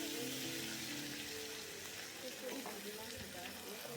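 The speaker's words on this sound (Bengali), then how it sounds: "ওই তেলের মধ্যেই দিয়ে দিলাম গোটা গরম মশলা এবং একটি তেজপাতা সাথে দিয়ে দিলাম ওই আদা এবং কাঁচা লঙ্কার পেস্টটা" Whole garam masala, a bay leaf and ginger-green chilli paste sizzle in hot oil, a continuous bright hiss that fills the scene with faint stirring beneath.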